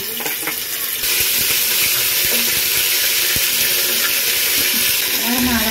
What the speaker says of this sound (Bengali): তেলের সাউন্ডের জন্য আওয়াজটা আসে নাই